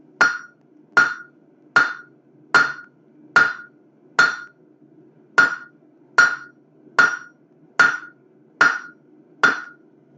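Hot metal being shaped for a penny-scroll S sign is struck with a hammer on the horn of an anvil: twelve sharp, ringing blows at a steady rhythm, close and loud over a faint background hum.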